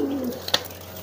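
A mature pigeon kept for giring training gives one short, low coo close by, followed by a sharp click.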